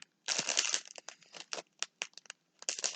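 Small wrapped packages from a parcel are unwrapped up close, with loud bursts of crinkling and crumpling wrapping paper and short tearing rustles in an uneven, choppy rhythm.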